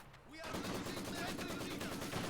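Captured Maxim machine gun in Company of Heroes firing a sustained, dense burst of rapid shots that starts after a brief quiet moment and continues steadily, with faint battlefield sounds behind.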